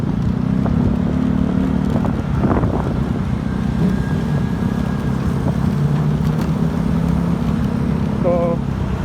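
A Yamaha Mio Gear 125 scooter on a Metro Manila ride, its steady engine drone blended with constant wind rumble on the microphone, with a brief voice faintly in the mix.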